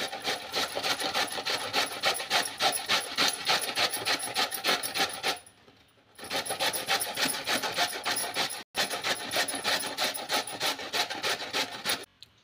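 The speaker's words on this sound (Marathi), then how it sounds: "आता यामध्येच आपल्याला रताळं किसून घ्यायचं आहे." Sweet potato is grated on a hand grater in rapid, rhythmic rasping strokes, loud and close, with a brief pause midway and a sharp break near the end.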